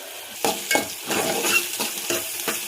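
A spoon scrapes and stirs brinjal and potato curry in a hot frying pan. Rhythmic scraping strokes sound over a constant soft sizzle, close and fairly loud, with no talking.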